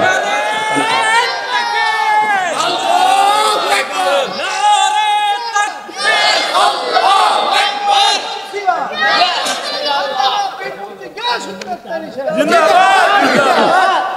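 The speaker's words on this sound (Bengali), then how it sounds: "একটা স্লোগান দেন তো ইনশাআল্লাহ" Large crowd of young men at an outdoor religious gathering chanting a slogan together loudly in repeated rhythmic bursts, voices overlapping and rising in waves.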